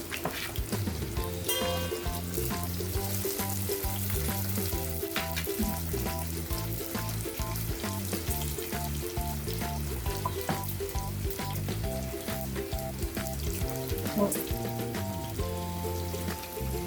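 Crushed garlic cloves frying in a pan while a Tamil urundai kuzhambu (vada curry) is being cooked, giving a continuous, dense sizzle and crackle that stays close and steady throughout, with no talking.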